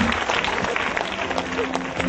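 A congregation at a Christmas church service claps together, a dense, sustained round of applause that fills the room for a couple of seconds, with some voices mixed in.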